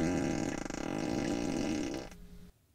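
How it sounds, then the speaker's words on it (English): Novelty fart sound effect played through a 2023 Tesla Model Y's speakers when the turn signal is switched on, a loud, buzzy, rumbling blast lasting about two seconds before cutting off abruptly. "it can make fart sounds every time you put the turn signal on"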